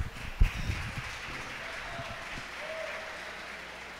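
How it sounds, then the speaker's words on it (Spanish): Applause from a crowd at the weigh-in of a Spanish national spearfishing championship, a short burst of clapping near the start that settles into a steady murmur of background noise. "Un aplauso, por favor."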